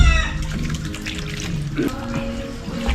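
Water runs steadily from a tap while fish is rinsed, a close, continuous splashing flow with faint clatter underneath.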